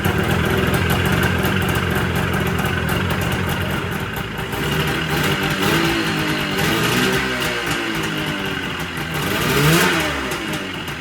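An old snowmobile engine runs steadily after starting, a loud, close, buzzing drone that rises and falls slightly with throttle, continuous throughout with no talking.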